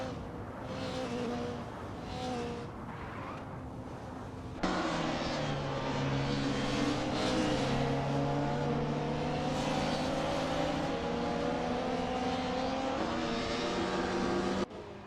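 Race cars in an AI racing video game, several engines droning and rising in pitch together as they accelerate and shift, a dense continuous roar that swells louder partway through.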